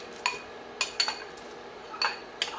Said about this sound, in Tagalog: what we can do is to add our corn kernels